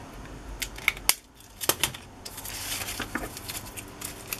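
Scissors snip through a textbook page at an angle to trim a deckle-edged paper piece, giving a few sharp, close cuts around one to two seconds in, followed by lighter rustling of the paper.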